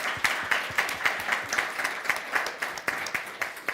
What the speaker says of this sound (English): maybe if you want to give an applause to our fantastic